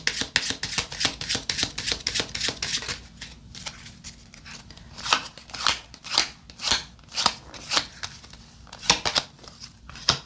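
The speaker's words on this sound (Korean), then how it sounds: "우선 레노먼드 카드 먼저 열어볼게요" Lenormand cards shuffled and laid out by hand during a tarot-style reading, a steady run of crisp papery flicks and snaps, close and fairly loud, with sharper card slaps in the second half and no talking.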